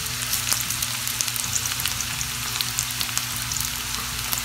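Chopped onions sizzle steadily in hot oil for rava kichadi, a continuous crackling hiss with small pops throughout and no voices.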